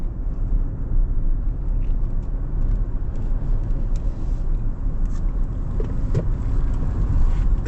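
Hyundai IONIQ 9 electric SUV accelerating hard at full throttle, heard from inside as a steady, loud low road and tyre rumble that holds level for several seconds with no engine note and no talking.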